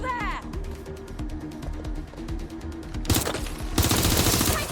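Rapid bursts of automatic gunfire from the game Watch Dogs Legion, dense and close, growing louder and harsher in the last couple of seconds over a low rumbling game backdrop.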